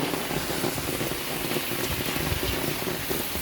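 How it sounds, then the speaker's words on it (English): Steady outdoor rain patters densely on surfaces during outdoor Jamaican cooking of tripe and bean stew, a continuous close hiss of drops with no talk. "So that is it guys in the rain."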